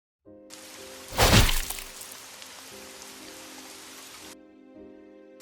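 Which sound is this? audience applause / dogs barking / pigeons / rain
rain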